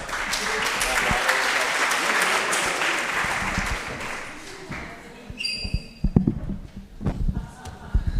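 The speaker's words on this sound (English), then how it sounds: "So please, a big clap for them" Audience applause at an ILPC 2025 keynote lecture session rises and holds for several seconds, then thins out into scattered claps, shuffling and voices as it fades.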